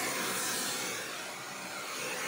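A hoover runs steadily inside a VW Golf during interior cleaning, a loud, even broadband whoosh with slight dips in pitch as the nozzle moves, no speech.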